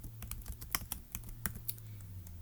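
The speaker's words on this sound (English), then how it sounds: "press space, and then you can type in someone's name" Quiet, quick typing on a computer keyboard, a short burst of a dozen or so light key clicks in an uneven rhythm over a faint low hum, with no talking.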